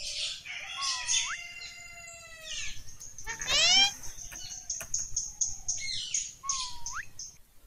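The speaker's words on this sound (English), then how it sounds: "P for parrot." A parrot gives a series of chirping, whistling calls with rising and falling squawks, moderately close, over a soft background.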